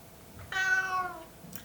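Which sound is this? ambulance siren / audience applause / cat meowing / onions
cat meowing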